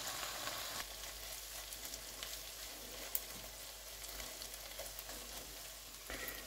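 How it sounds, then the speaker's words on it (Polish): Sausage and bacon fry steadily in a pot for a Polish peasant stew, a continuous soft crackling sizzle with one brief sharper pop midway and no voices. "Już kiełbasa i boczek się pięknie podsmaża."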